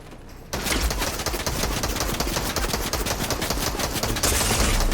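Rapid gunfire shooting at a building in Fortnite, a dense, loud burst of shots starting abruptly and continuing without pause.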